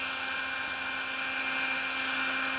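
A small portable handheld fan runs steadily on its second speed setting, giving a continuous close-up whirring motor hum with a strong high-pitched whine, alone and unbroken.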